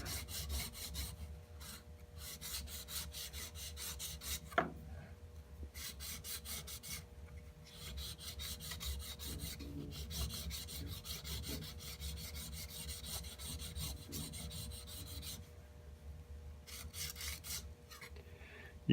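A nick on a steel combination square blade is smoothed by hand, giving faint, steady rasping strokes that come in repeated bursts with short pauses between them.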